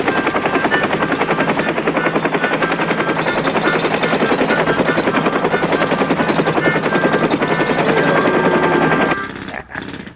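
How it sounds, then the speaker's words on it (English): A jackhammer runs nearby with a rapid, steady, loud hammering rattle for about nine seconds before stopping abruptly. "Get that jackhammer out of here."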